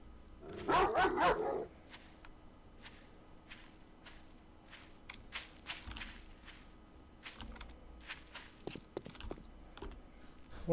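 A Doberman in the video game 7 Days To Die barks in a quick burst, then footsteps and scattered soft thuds and clicks follow, quiet and spaced out.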